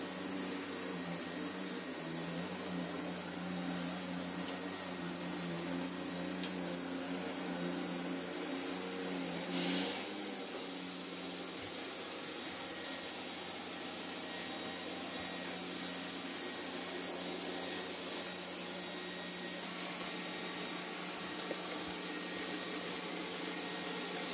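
A Vorwerk VR300 robot vacuum cleaner runs with a steady, close motor whine and broadband airflow hiss, a continuous even drone throughout with small bumps and no talking.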